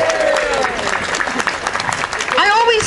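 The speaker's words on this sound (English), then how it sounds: "Give them a round of applause, for God's sake." Audience at a stand-up comedy gig applauds loudly, with dense, sustained clapping and scattered whoops and cheers rising near the end, all close and full.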